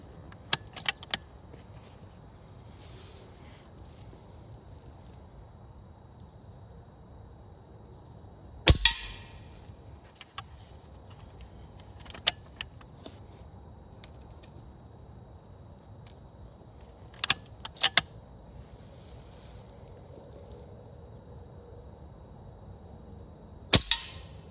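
A custom Beeman QB79 PCP air rifle fires single shots, each a sharp snapping crack spread out between long pauses over a low steady background hum, some shots paired closely together.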